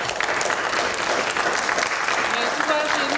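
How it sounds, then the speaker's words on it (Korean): An audience at a Korean political party event claps for a candidate, a dense and steady burst of applause throughout, with a voice faintly audible underneath. "수고하신 후보님께 박수 부탁드리겠습니다"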